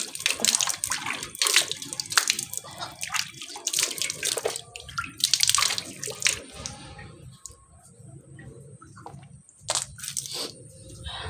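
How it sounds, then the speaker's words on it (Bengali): Tap water splashes in bursts while a face is washed at a sink, with irregular gushes and drips stopping and starting over the length; close and fairly loud, and there is no talk. "মুখটা ধুয়ে নিই"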